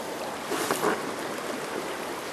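Fast-flowing stream water in the Adirondacks makes a steady, close, broadband rush throughout, with a slight swell of splashing in the middle.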